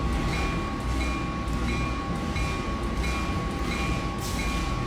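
A Sancaka Utara passenger train in the Trainz simulator slows as it pulls into Lamongan station, its dense steady rumble carrying faint periodic pulses of wheels over rail joints throughout.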